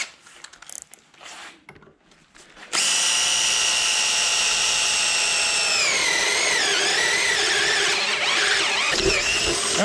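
Matco Hyper step drill bit cutting through metal in a torture test, a loud continuous high-pitched grinding whine that starts abruptly after quieter shop noise and holds steady, its pitch dipping and wavering as the bit bites.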